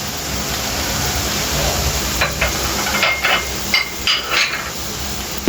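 Chopped tomatoes drop into a sizzling Punjabi mutton curry, a loud frying hiss that gives way to several close scraping and clanking stirs of the pot.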